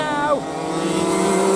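A race car passes during a restricted pro weight circuit race heat, its engine note rising then dropping as it goes by, heard loud and continuous.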